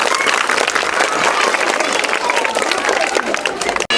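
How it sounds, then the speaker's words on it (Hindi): An audience at an Independence Day event applauding, a dense burst of loud, sustained clapping that cuts off sharply at the end. "एक बार जोरदार ताली बजाइए"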